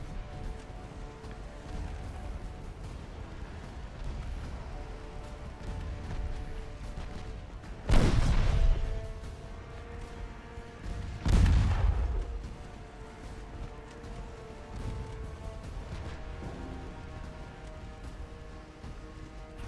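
Naval gunfire in Ultimate Admiral Dreadnoughts, two heavy cannon blasts a few seconds apart, each booming loudly over a low ambient rumble of the sea battle, then fading with a long tail.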